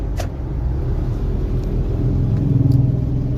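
A car engine rumbles low and steady at close range as the vehicle pulls over to the roadside to park, with a slight rise in revs near the end.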